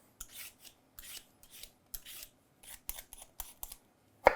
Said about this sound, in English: Now we're just gonna peel our sweet potatoes.